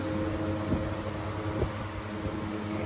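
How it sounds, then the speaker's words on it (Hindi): An air cooler runs in a room on a hot summer day, giving a steady low hum and whir with a constant airy hiss and faint tonal drones, unchanging and close throughout. "कूलर तो चलने दो।"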